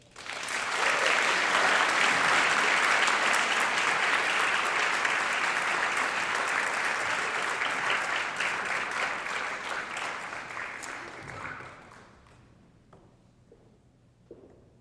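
Sustained audience applause greeting Julia Phillips as she takes the stage at a Society for Contemporary Art talk, a dense clapping wash that stays full for about eleven seconds before thinning into a few scattered claps.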